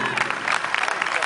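Concert audience applauds during band introductions at a live rock show, a dense, bright wash of clapping and crowd noise that stays fairly loud and even across the short burst.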